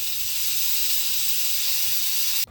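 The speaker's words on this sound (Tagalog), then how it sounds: "At pakukuluan po natin yan for another 30 minutes." Beef stock simmering in a pot for balbacua, a steady soft steamy hiss with a gentle bubbling undertone, quiet and constant throughout with no voices.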